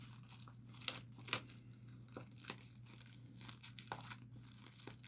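Plastic crinkles and rustles in irregular bursts, with a few sharper crackles standing out over a steady low hum.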